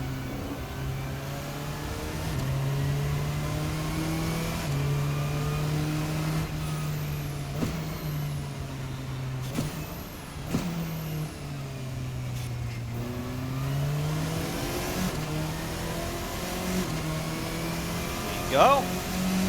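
A 1.3-liter four-cylinder Formula RSS 4 race car in a racing sim, its engine droning steadily with stepped pitch rises through gear changes and brief lifts, loud and continuous with a voice talking over it.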